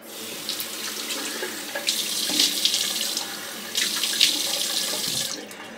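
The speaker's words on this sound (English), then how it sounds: "All right, let me wet the face." A bathroom tap runs water into a sink as a man wets his face before shaving, a steady close splashing stream that swells louder in two bursts and then cuts off.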